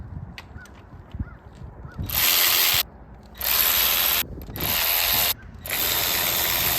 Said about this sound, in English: let's go ahead and start cracking some valve cover bolts loose here